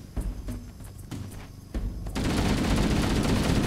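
Shotgun fire in the video game Halo 1, a few loud separate blasts followed by a dense, continuous barrage of gunfire and explosions.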